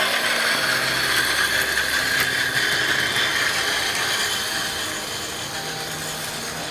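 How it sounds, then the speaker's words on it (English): A G scale model train runs outdoors in the snow, giving a steady whirring, rattling mechanical drone of moderate loudness that eases slightly toward the end, with no talking. "We have to run the train even faster."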